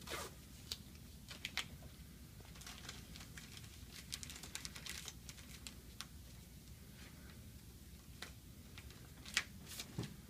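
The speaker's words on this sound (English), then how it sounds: "What we're going to do is tape up this packaging, and it will remain at the bedside" Adhesive tape pulled and stuck down to seal medical packaging at a bedside, faint scattered zipping rips and crinkly ticks over quiet room noise.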